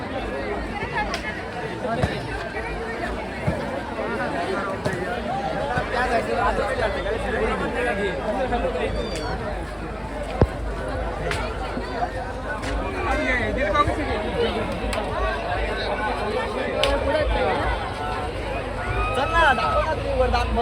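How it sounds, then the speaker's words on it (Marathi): Dense crowd chatter at the Mhasa Jatra temple fair in Murbad, Thane district, a continuous babble of many voices with scattered clicks and knocks, while a nearby voice talks over it. "गर्दी आहे तशी आतमध्ये भरपूर."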